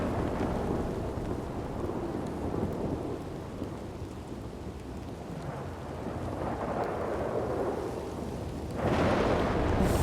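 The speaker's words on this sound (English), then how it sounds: "Lightning almost fucking hit me." Heavy rain hisses steadily while thunder from a nearby lightning strike rumbles low and long, swelling into a sharper, louder crack near the end of a thunderstorm.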